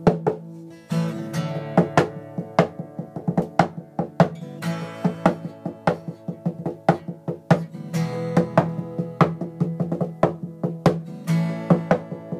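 Percussive knocks and slaps on the body of a guitar mixed with strummed string tones, a busy, rhythmic groove of sharp close hits throughout.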